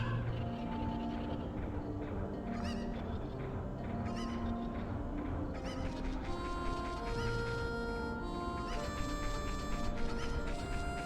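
Chickens clucking at Lon Lon Ranch in the video game Zelda: Ocarina of Time, short clucks and honk-like calls scattered over steady game music, with no speech.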